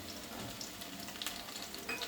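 Garlic and spices crackle and sizzle while tempering in hot sesame oil and ghee for sambar, a steady close frying hiss with small pops.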